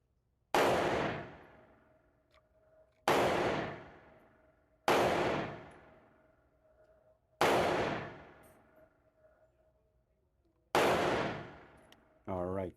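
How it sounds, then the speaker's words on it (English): Five sharp, loud gunshots from a Glock 19 Gen 5 pistol fitted with a ramjet and a Taran Tactical faceplate magazine, fired singly at uneven intervals of a few seconds, each shot trailing off in a ringing echo. "shoot the Glock with the ramjet and the Taran tactical faceplate mag"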